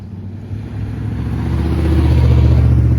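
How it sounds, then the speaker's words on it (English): A loud truck roars past close by, its low engine rumble building steadily louder over a few seconds. "a loud truck drives by me"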